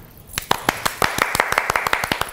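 A group claps in a steady burst of sharp hand claps after a nearly two-hour live coaching session, the claps rising from near silence and continuing at a lively, even rhythm.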